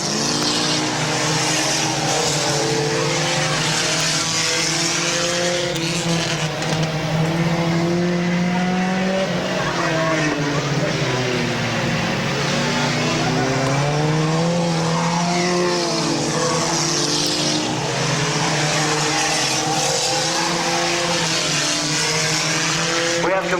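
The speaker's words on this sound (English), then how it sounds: "They race way down in turn number 4." Compact stock cars racing at Midvale Speedway, engines droning continuously and rising and falling in pitch as the cars pass, loud throughout, with a track announcer talking over the racing.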